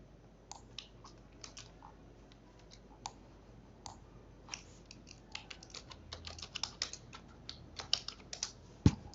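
Typing on a computer keyboard, a close series of crisp key clicks in irregular bursts that quicken and grow louder toward the end, with no talk.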